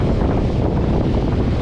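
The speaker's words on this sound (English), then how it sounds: "Let me try to block the wind a little bit." Steady, loud wind buffets the microphone at a beach, a dense low rumble with gusty flutter running unbroken for the whole stretch, and no voices.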